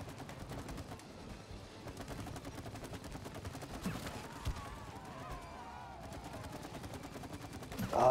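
Quiet, rapid gunfire rattles in repeated bursts during the Wasp Queen boss fight in the video game It Takes Two, kept low under game music and effects.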